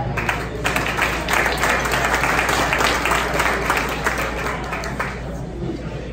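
Applause from an audience at a live podcast and network launch event: dense, steady clapping that fills the room at close range for the whole stretch, easing slightly toward the end.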